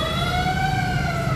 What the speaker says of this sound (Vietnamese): Nghe tiếng xe cấp cứu